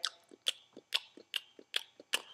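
A mouth imitates loud gum chewing, smacking like a cow: seven sharp, wet smacks at a steady, quick rhythm, each followed by a softer click, close and isolated.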